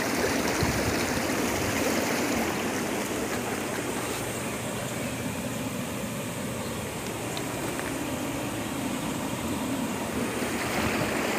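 Water rushes and bubbles steadily into a Coleman SaluSpa inflatable hot tub as it fills, a dense, continuous churning hiss that stays even and close with no voices.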